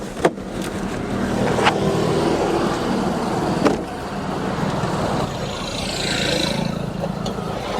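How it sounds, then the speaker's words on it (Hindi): A used Tata Tiago CNG hatchback cranks with a sharp click, then settles into a steady, close, droning engine idle that runs evenly to the end. "तुम्हें मैं दिखाता हूँ इसका इंजन स्टार्ट गाड़ी का"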